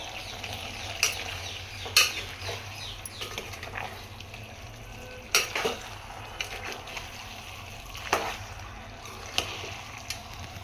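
Malvani chicken rassa is stirred in a pot after steaming, with soft scraping and wet sloshing plus a few sharper knocks of the spoon against the pot, steady and close under low kitchen background noise.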